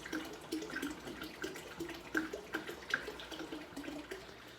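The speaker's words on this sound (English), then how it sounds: "in pouring the water back in, you want to pour it into a solid surface, not the gravel." Water is poured back into a home freshwater fish tank onto rocks rather than gravel, making a steady splashing and gurgling flow with rhythmic sloshes and no talking.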